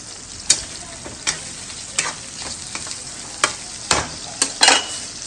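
Onions fry and sizzle in a pan for biryani while a spoon stirs them, the steady hiss broken by sharp scraping clatters every second or so, close and fairly loud, with no talking.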